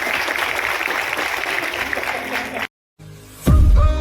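Crowd applause at a Christmas celebration held by a ministry in Moshi, Pimpri, clapping for the Sunday school teachers: a dense, steady patter of many hands for about two and a half seconds, then an abrupt cut and a louder, different burst.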